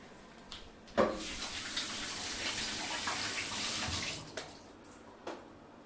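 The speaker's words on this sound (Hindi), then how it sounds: "चलिए मैं एक मिनट अब हाथ धो लूं" Tap water runs steadily while hands are washed under it, a continuous hiss of splashing with a few brief knocks and clatters near the start and end.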